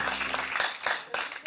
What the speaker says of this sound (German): mach Applaus